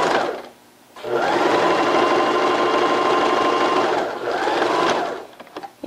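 A sewing machine stitches the waistband of a leggings skirt. After a short pause it runs in a loud, fast, steady whir for about three seconds, eases briefly, then runs again before stopping with a few light clicks.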